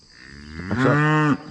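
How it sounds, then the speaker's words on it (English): A single cow bawls nearby on a drought-hit farm, one loud drawn-out moo swelling for under a second before cutting off, with no talking. "Still hear some bawling over there."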